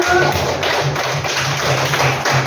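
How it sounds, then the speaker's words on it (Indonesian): A group of participants gives a round of steady, continuous hand-clapping for classmates who came forward in a computational-thinking lesson, with no talk over it. "Ayo kita beri tepuk tangan buat teman-teman kita yang maju"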